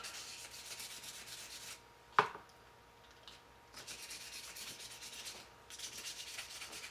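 Fine sandpaper rubs over Victorinox knife scales after a 320 grit pass, with even, light pressure. The soft, quiet rasping comes in three stretches of back-and-forth strokes, with one sharp tap between the first two.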